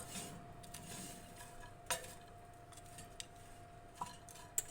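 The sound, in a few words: stirring apple crumble in a dish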